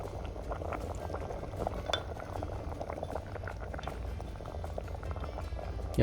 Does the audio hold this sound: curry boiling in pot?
yes